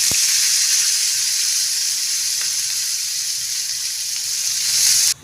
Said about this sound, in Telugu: ఇవి తీసేసి నేను క్యాబేజీ ఫ్రై చేసుకుంటా